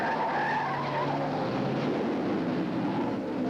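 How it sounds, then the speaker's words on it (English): Race car skidding during the 1973 Indy 500 as it loses control and hits the wall on the main straightaway, a continuous loud rush of engine and tire noise with a crowd roar underneath. "Peter Revson loses control and hits the wall at the start of the main straightaway"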